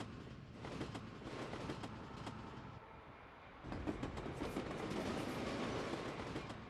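Fleischmann N-gauge model train rolling steadily around a snowy scenic layout, a continuous clickety-clack of small wheels over rail joints with a brief dip in the middle, no voices.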